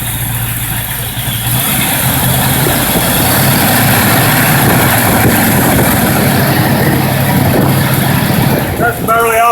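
A freshly rebuilt Pontiac 455 V8 running hot just off idle, a loud, steady, close rumble that holds evenly for most of the stretch, with a brief clatter near the end and talk likely over it.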